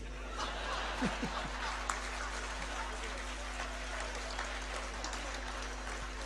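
An audience at a Gujarati light-music concert breaks into applause mixed with chuckles and laughter, a broad steady clapping with talk underneath.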